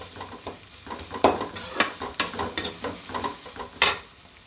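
Onions frying in a pan for mutton kulambu, a close sizzle with a series of crisp spatula scrapes coming every half second or so, clear with no voices.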